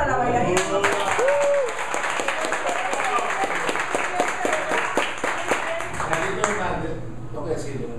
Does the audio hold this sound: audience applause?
yes